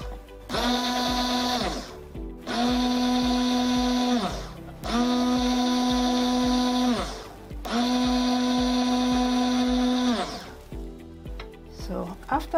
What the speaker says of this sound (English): Then you take your emulsion blender and blend it very well.